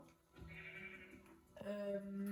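A Minecraft sheep bleats in a short, nasal, wavering call, followed by a second, louder and more tonal bleat at close range, with faint game background.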